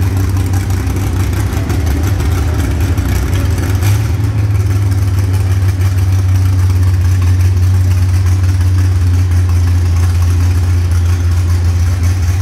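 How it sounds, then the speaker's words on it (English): A Lola Cosworth IndyCar race car with a Cosworth engine and Lola chassis idles steadily at an auction, a loud, constant low engine drone with a brief blip partway through and no talk. "This is a Lola Cosworth. Cosworth engine, Lola chassis,"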